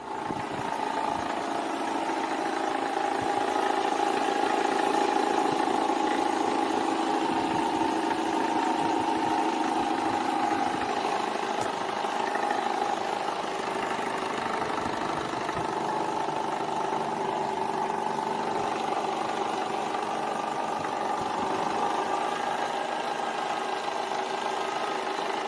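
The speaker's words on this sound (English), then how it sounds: "the engine was making a knocking noise" A car engine with a knocking fault runs steadily at idle, a continuous mid-pitched drone with a faint rhythmic tapping beneath it, fairly close and unchanging throughout.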